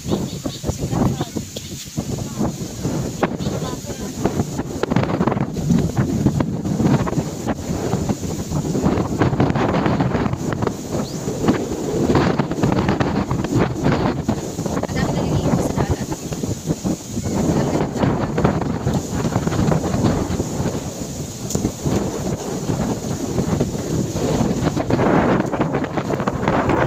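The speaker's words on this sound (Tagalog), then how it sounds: "Sobrang lakas ng hangin dito guys, kaya ganyan yung tunog niya, sobrang lakas." Strong wind at a beach buffets the microphone in loud, rushing gusts throughout, rising and falling continuously.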